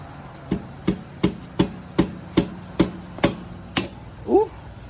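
Rubber hammer tapping on a GY6 50cc scooter engine during a 100cc big bore kit install, around ten crisp close taps at a steady pace, followed by a brief scraping sound.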